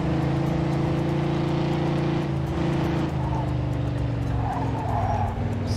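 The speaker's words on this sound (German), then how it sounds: "Ich gebe hier einfach Vollgas" Car engine roaring at full throttle in the Mafia 2 video game, a loud sustained drone with steady harmonic tones that shift pitch midway, with tire noise throughout and no speech.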